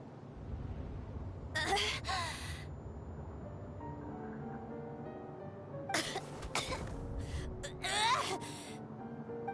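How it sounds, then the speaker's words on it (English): A robot character in Genshin Impact gives a few rough, raspy coughs in short bursts over steady background music and ambience, fairly quiet. "Why are you coughing?"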